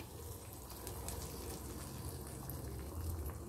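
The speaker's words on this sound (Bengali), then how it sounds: "এবার এই তড়কাটা আমি এই ডালটার মধ্যে ঢেলে দিচ্ছি" Hot tadka tempering is poured into cooked mixed dal, producing a continuous soft hiss and bubbling gush that stays even and fairly faint throughout, close by with no talk.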